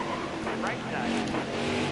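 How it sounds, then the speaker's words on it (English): Race car tires squeal and skid through a corner at Mid-Ohio in NASCAR Heat 4, a steady engine roar with sliding tire noise throughout under a commentating voice. "We're sliding sideways."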